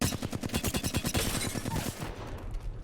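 Rapid automatic fire from a 3x-scoped weapon in Apex Legends, a steady fast burst of loud close shots for about two seconds, then the fire stops and only faint rumbling remains.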